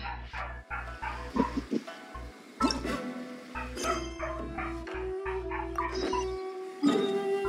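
A dog barks again and again in short, sharp bursts with brief pauses between them, close by and fairly loud, with a few yips and whimpers mixed in.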